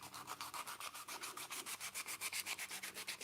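120 grit sandpaper scrubbing old varnish off wood down to raw, a fast rhythmic back-and-forth rasp of even strokes, close and alone.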